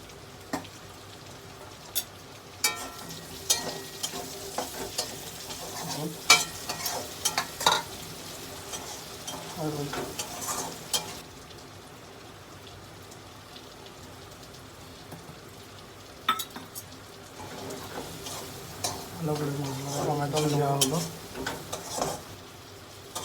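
Fried potatoes are stirred into sizzling masala with curry leaves, giving a steady crackling fry with repeated spatula scrapes and clatters against the pan and louder bursts of sizzling.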